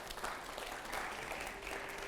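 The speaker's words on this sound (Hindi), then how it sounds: "अगला सवाल के लिए जोरदार तालियां हो जरा।" An audience claps continuously, a dense, even patter of applause heard from a moderate distance.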